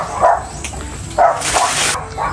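Dogs bark in short bursts at a rural home in the Philippines, loud and close, with a few yips and a whimper between the barks.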